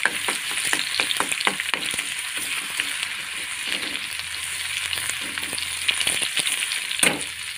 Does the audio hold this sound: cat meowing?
no